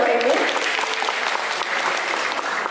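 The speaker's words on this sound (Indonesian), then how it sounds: "boleh berikan tepuk tangan Bapak Ibu" Sustained audience applause fills a hall at a press association board inauguration, steady dense clapping throughout with no gaps.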